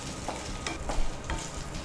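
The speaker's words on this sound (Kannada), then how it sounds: "ಇವನ್ ಬೆಳ್ಳುಳ್ಳಿ ಕೂಡ ಫ್ರೈ ಆಗ್ಬೇಕು" Garlic fries in a pan with a steady sizzle, broken by several sharp scraping stirs of a spoon against the pan, close and without talk.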